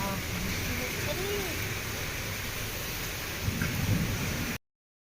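Steady heavy rain pours down in a thunderstorm, a dense broadband hiss throughout with a low rumble swelling near the end, while someone talks over it.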